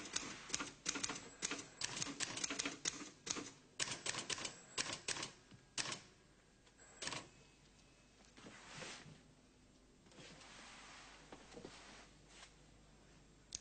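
A typewriter clatters as reports are typed out at home in a sitting room: fast, irregular keystroke bursts at first, then slower scattered taps, faint and without talk.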